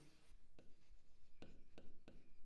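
Chalk scratches faintly across a board as an equation is written, in short strokes with a few sharper taps and scrapes, quiet and close.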